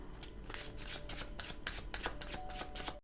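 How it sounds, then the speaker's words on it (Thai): Tarot cards are shuffled during a reading in a series of crisp riffling bursts, close and fairly quiet, about three seconds with no talk. "แม่มดจะขอไพ่เพิ่มนะคะ"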